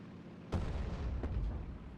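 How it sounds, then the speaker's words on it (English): Artillery shells land in the War Thunder tank game as two deep booming impacts, a sharp one followed by a second a moment later, over a low rumbling background. "So throw a bit of artillery, maybe see if I can tag it."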